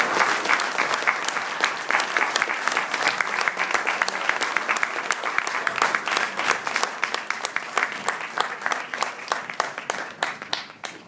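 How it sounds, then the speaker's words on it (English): A Toastmasters club audience honouring its charter members gives sustained, even applause. The crisp clapping fills the room for over ten seconds, with no talk over it. "Give them a round of applause."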